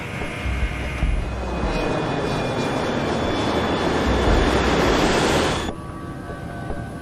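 An airliner on landing approach roars loudly and steadily, a broad engine and wind rush that swells and then drops off sharply near the end, with a faint high whine underneath.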